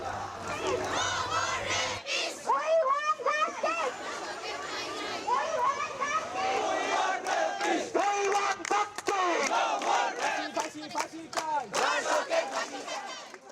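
A large student protest march on a campus road chants in unison, loud rhythmic shouted slogans from a big crowd close by, continuing for the whole stretch after a brief quiet start.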